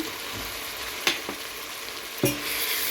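Jaffna curry powder being stirred into a frying crab curry, a steady sizzle with two or three sharp scrapes of a spoon against the pan.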